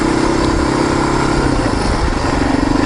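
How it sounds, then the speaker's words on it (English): 350 cc motorcycle engine running while riding, a loud, close, steady pulsing roar that holds a constant throb throughout, with no talk. "This is a 350, but I like this size of bike."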